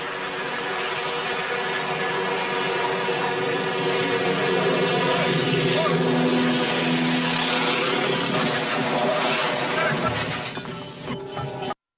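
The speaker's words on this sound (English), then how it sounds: "What starts as a routine lift suddenly turns into terror as the chopper malfunctions." A loud, droning helicopter rotor engine, malfunctioning during a lift, whines continuously with rising and falling tones, then cuts off abruptly at the end; voices shout faintly beneath.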